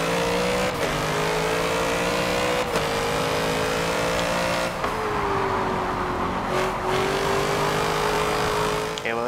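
Race car engine in Forza Motorsport 7, a loud sustained high-revving whine climbing steadily through gear changes, with brief dips between shifts and no talk.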